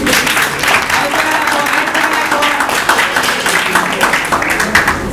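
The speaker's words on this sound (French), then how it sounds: "Ça s'applaudit." An audience at a company day event applauds warmly, a loud, even roll of many clapping hands with light crowd noise, continuous from start to finish.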